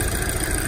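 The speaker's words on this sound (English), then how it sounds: "The engine runs nice and" A turbocharged four-cylinder in a 2013 Volkswagen Golf R with an APR carbon fiber air intake idles smoothly, a steady, fairly loud close hum with a faint clatter and no voices.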